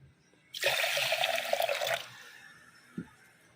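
Water pours briefly into a cooker holding horsegram for about a second and a half, a splashing gush, followed by a faint knock in a quiet room.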